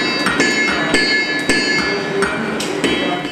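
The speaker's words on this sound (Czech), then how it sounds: "Na první pohled něžné dívky se ale kladivem dokážou ohánět stejně jako jejich spolužáci." Blacksmith students hammer metal in a school workshop, with rapid, ringing, metallic strikes that repeat steadily, loud and close over a continuous clanging din.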